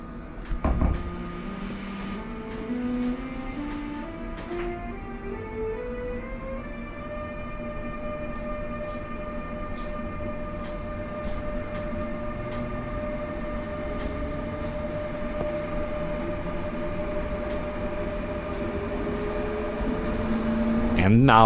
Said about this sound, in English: let you hear that iconic traction converter sound one more time as the locomotive starts up and gains speed once again